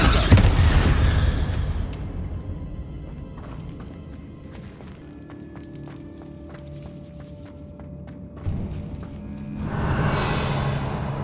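A Bombarda spell explosion in Hogwarts Legacy: a loud, booming blast at the start that decays into quieter rumbling, thuds and scattered clatter, then swells again near the end.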